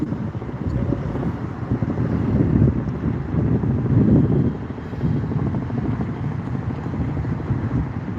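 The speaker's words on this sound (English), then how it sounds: "Here's the helicopter." A steady low rumbling drone of a helicopter at Santa Ana Airport, loud and continuous, with a gusty, wind-buffeted quality that swells slightly midway.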